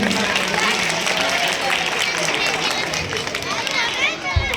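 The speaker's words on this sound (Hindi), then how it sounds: "तालियां तो बजा दो भाई।" An audience claps and cheers at a village Ambedkar Jayanti celebration as a third-place child is announced. The applause and crowd noise are dense and sustained, filling the whole moment with a steady broad clatter.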